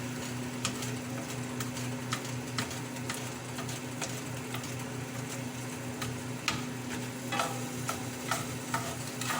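A spatula breaks up tofu scramble in a frying pan, giving repeated light scraping clicks over a soft continuous sizzle and a low steady hum.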